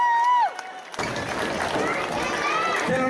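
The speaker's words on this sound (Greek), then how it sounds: "Ένα θερμό χειροκρότημα." An audience at an outdoor goat beauty contest in Greece bursts into sustained applause and cheering for the winning goat, a loud crowd roar starting abruptly after someone speaks over a loudspeaker.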